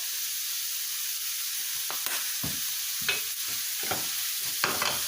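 A spoon stirs seasoned enchilada filling in a pan, giving several scraping strokes over a soft, steady sizzle, close and moderately quiet with no talking.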